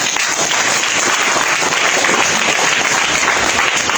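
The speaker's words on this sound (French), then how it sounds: "On applaudit très fort, s'il vous plaît." An audience claps loudly and steadily at a coaching event, dense continuous applause filling the whole stretch.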